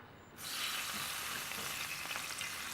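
Dry red Merlot hits a hot skillet of braising spare ribs and bursts into loud sizzling, a sudden onset from near quiet into a dense steady hiss that keeps crackling close up.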